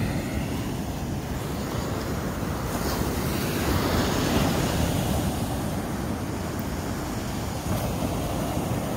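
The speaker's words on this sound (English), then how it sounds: "can't even tell where the ocean's at. I can obviously hear it." Ocean surf washes in a continuous broad roar, with wind buffeting the microphone; no voices.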